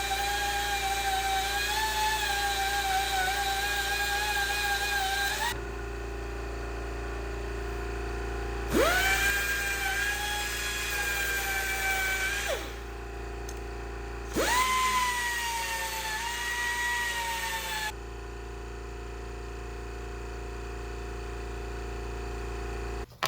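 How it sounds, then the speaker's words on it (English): A power tool deburrs the cut edge and threads of a metal part for IS300 wheels. Three separate runs of high whining, each dropping slightly in pitch as it bites, are separated by pauses with a low steady hum underneath. "I went ahead and deburred it around the edge, smoothed it out"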